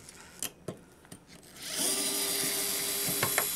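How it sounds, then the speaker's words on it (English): A cordless drill or screwdriver drives screws while converting a metal halide wall pack light to LED: a few sharp clicks and taps, then a close, steady whirring spin of the motor lasting a couple of seconds. "For speed, a cordless drill or screwdriver really comes in handy."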